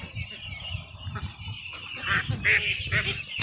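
Ducks quack and honk close by in short bursts, growing louder toward the end, with splashing and background noise.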